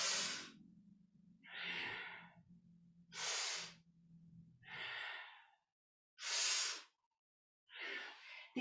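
Deep, slow breaths during a kundalini yoga forward fold: long airy inhales and exhales alternate in a steady rhythm, close and breathy, with brief pauses of silence between and no speech.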